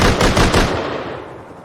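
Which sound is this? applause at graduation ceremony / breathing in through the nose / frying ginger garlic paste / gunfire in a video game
gunfire in a video game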